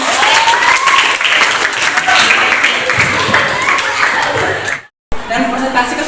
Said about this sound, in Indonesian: Tepuk tangan untuk kelompok 4 sekali lagi